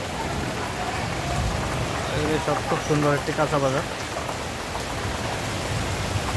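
Steady rain pours down on a street by a fresh-produce market in Guangzhou, a dense even patter with someone talking over it partway through.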